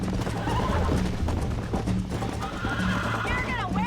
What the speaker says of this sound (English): You're gonna wear that horse